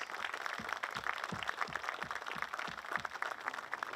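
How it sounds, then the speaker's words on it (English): Faint, distant round of clapping from an audience at a state park bill signing and grand opening, with steady rhythmic claps throughout. "we should all give them an incredible round of applause"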